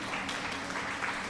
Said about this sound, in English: Thank you for the applause, but I really don't need it.